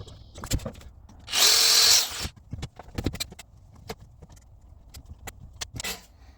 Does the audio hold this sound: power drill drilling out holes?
yes